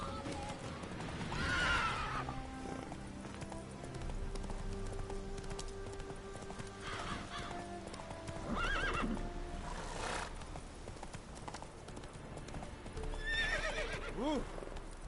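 Roach the horse in a PS4 video game, neighing in several loud whinnies spread across the stretch over a steady clip-clop of galloping hooves, with game music and effects underneath.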